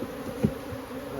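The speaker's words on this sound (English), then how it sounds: "Bees will fly back into their nests" Honeybees buzz around backyard hives during a yard inspection, a steady, faint droning hum with one brief closer pass, alone without talk.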